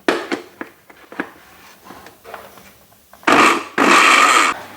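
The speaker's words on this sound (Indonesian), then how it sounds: "Ini aku pakai blender bekas tadi, blender cabai kering ya." Small kitchen blender for grinding dried chilies for sambal tongkol: a few soft clicks and knocks of handling, then two short, loud whirring bursts of the motor at the end.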